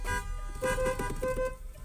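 In a driving video game, a car horn honks in two short steady tones over a droning engine and game noise, with no talk.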